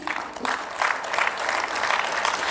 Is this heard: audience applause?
yes